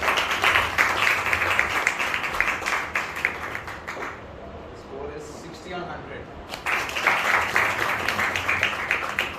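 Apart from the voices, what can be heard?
audience applause for award winner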